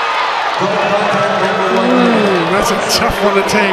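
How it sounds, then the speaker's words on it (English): Volleyball arena crowd booing and jeering after a disputed referee call, a loud sustained roar of many voices under a commentator's talk. "The crowd does not like it."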